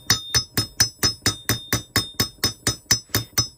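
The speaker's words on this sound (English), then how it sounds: "I've got my little stubby hammer with the ball peen end, and I'm going to flatten that tip down." A small ball peen hammer strikes a ring tip against an anvil to flatten it, about fourteen sharp metallic blows in a steady, quick rhythm, bright and ringing, close up with no voices.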